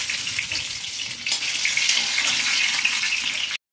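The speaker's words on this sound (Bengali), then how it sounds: "একদিকটা ভাজা হয়ে গেছে, তো আলুগুলো অপর দিকটা ভেজে নেব।" Potato pieces fry in oil in a pan for a Bengali aloo dum, giving a continuous close, bright sizzle that holds steady before stopping abruptly.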